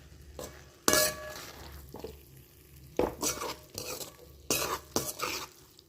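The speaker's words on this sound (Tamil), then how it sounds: "இப்போ உடையாமல் நல்லா மிக்ஸ் பண்ணிக்கலாம்" A spoon stirs chicken idiyappam biryani in a pan, scraping and clinking in several bursts with a light sizzle underneath and no talking.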